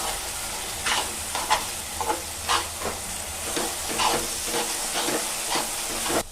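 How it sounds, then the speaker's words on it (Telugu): Gongura leaves fry and get stirred in a pan, steady sizzling overlaid with repeated scraping stir strokes at an uneven rhythm, close and moderately loud with no talking. "ఇలా కలుపుతూ వేయించుకోండి. గోంగూర అనేది బాగా వేగేలాగా చూసుకోండి."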